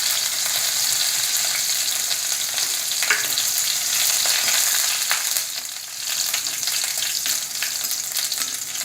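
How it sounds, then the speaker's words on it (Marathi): Curry leaves and chillies sizzling in hot oil with mustard seeds for a tempering, a dense continuous crackling hiss heard up close, with no voices. "कढीपत्ता घालूया."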